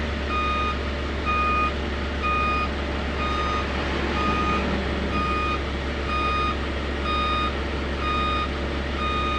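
A truck brake testing machine runs with a steady low drone while a vehicle's reversing beeper sounds at a regular interval over it, fairly loud and continuous.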